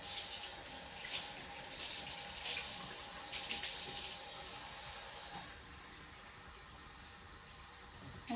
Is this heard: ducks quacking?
no